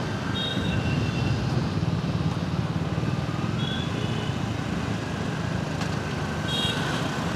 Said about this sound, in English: आपको वो जो एक्सॉस्ट नोट भी मिलेगा